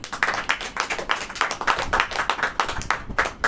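Rhythmic congregational clapping during a Hindi church sermon, with loud, evenly spaced claps repeating in a steady beat.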